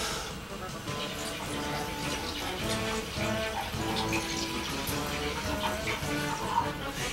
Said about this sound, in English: It's pushing the water out of the top glass.